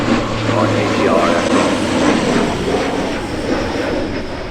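ATR turboprop aircraft at the Farnborough Airshow, a steady broadband engine and propeller drone holding at a constant loud level throughout with a low tonal hum beneath, fairly close.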